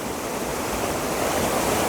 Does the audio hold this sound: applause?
no